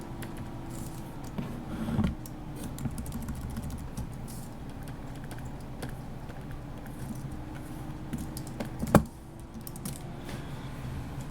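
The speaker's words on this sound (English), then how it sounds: "I'm sure you guys can hear me whacking at the keyboard constantly" Computer keyboard typing during a game-development stream, soft continuous tapping under a steady low hum, with two louder, sharper keystroke whacks standing out.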